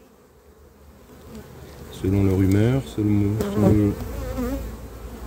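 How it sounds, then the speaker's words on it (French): Honeybees at an open hive make a continuous low buzzing hum throughout, with someone speaking French over it partway through. "vous avez toujours quand même une ou deux abeilles qui viennent vous piquer"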